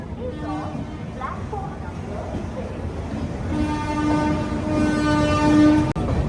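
Pinakini Superfast Express pulling out of Vijayawada Junction, a continuous rolling rumble building in loudness, with tonal horn blasts sounding near and long toward the end and a voice speaking over it.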